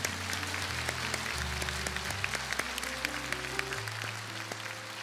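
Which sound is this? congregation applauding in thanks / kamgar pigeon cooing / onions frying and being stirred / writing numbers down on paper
congregation applauding in thanks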